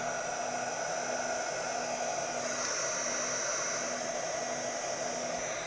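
A heat tool used on a faux encaustic art journal blows air at a lowered speed, making a constant close whooshing hiss with a faint high whine, steady throughout with no talk.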